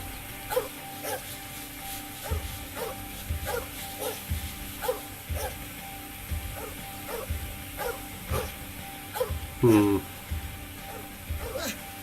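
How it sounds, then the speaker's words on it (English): A dog barks in a radio drama, a run of sharp regular yaps repeating throughout, somewhat distant, under and between a voice speaking, with a louder yelp near the end. "It would have been alright, but for that infernal dog."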